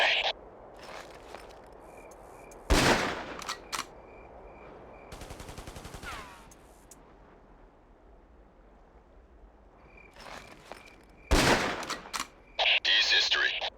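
Bursts of gunfire in the video game Ghost Recon, a few sharp, loud cracks and a short rattling volley separated by quieter gaps of ambient game sound.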